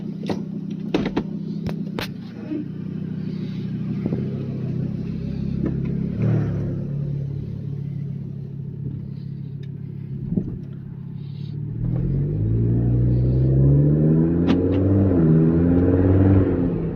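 A VW 2.5-litre car fitted with an upgraded exhaust tip idles with a low burble, then pulls away and revs up louder, the rising engine note growing steadily as it drives off around the block.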